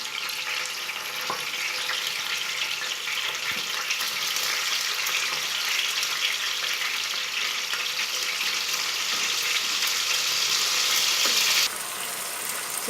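Chicken pieces frying in hot oil, a loud, steady sizzle that fills the whole stretch with no talking, easing slightly near the end.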